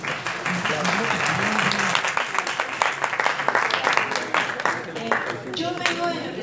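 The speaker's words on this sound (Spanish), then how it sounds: "Y le van a aplaudir, espero." An audience at a talk on child production incentive models gives lively, dense applause with crisp individual claps, while voices can be heard speaking through the clapping.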